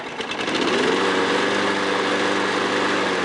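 A 1994 Toro SuperPro Recycler II lawn mower engine runs close by, rising in pitch over the first second as the throttle opens and then holding a steady, loud, buzzing drone with no talking.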